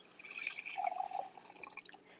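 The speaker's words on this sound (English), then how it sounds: "I'm going to put my brush in some water" A paintbrush dipped into water gives soft, close trickling and dripping sounds for a couple of seconds in a quiet room.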